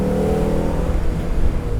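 A 1996 Alfa Romeo 916 Spider, a front-wheel-drive sports car, drones with a steady engine hum while driving, a low continuous tone holding close and even throughout.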